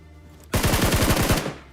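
Incoming automatic gunfire in the mobile battle royale game BGMI, a sudden loud burst of about eight rapid shots lasting under a second, close and sharp, ending abruptly.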